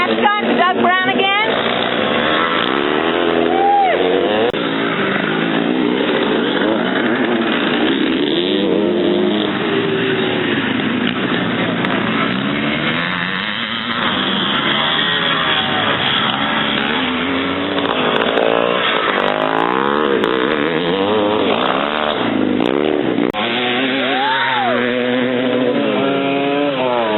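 Motorcycles race in a 500cc class event, their engines droning and whining almost continuously, with rising and falling pitch as bikes pass. A voice seems to talk over the engine noise at times.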